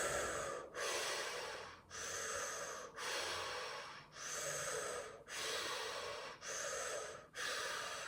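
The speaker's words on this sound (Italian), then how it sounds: "Solo dalla bocca, come se volessi succhiare l'aria." Sharp breaths drawn in through the mouth during a guided breathing exercise, about eight long rushing airy inhalations in steady rhythm, each separated by a brief pause, close and alone.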